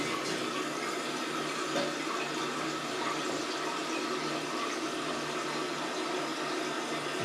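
Water rushes steadily into a toilet tank through a newly fitted supply valve, a continuous, moderately close hiss and gurgle of filling with no voices.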